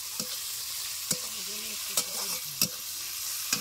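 Tomato goes into onions already fried deep red in a pan. A continuous soft sizzle is broken by several sharp spoon scrapes and clacks as the mixture is stirred.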